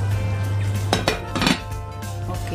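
A metal lid clanks down onto a wok while tofu and tempeh bacem cook, giving a couple of short close clinks over a steady low stove hum.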